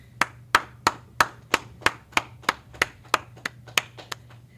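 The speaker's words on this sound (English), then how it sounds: "All right, clap it up." Sharp, evenly spaced claps, about a dozen in a steady rhythm, ring out loud and clear with no talking, from the gathering at an ISUPK Houston Wednesday law class.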